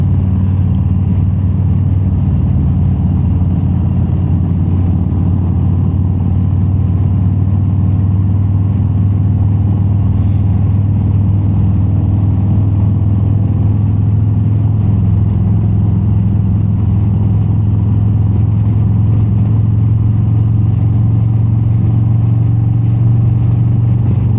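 A motorcycle engine drones steadily and close-up on the Tail of the Dragon mountain road. The low, constant note barely changes pitch over a long stretch of riding.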